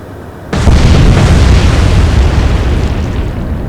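Torpedo hits in the naval war game Atlantic Fleet, a British attack on a German destroyer: a sudden loud boom erupts from near silence and rolls on as a dense, roaring blast with heavy low rumble.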